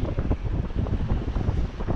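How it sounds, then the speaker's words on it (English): Ocean waves break along a beach below cliffs at sunset, a loud continuous wash of surf mixed with heavy wind buffeting the microphone, with no talking. "Waves breaking in,"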